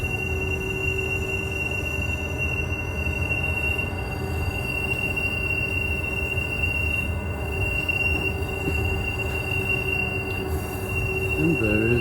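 Bernina Express train wheels squealing steadily on curving Alpine track in Switzerland, a sustained high-pitched screech over continuous close rumbling of the rail cars, loud and unbroken throughout.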